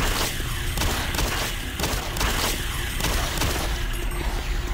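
Repeated pistol shots fired at spider creatures in the video game Doom 3, dense loud bursts in a steady rhythm with roaring game effects, no talk.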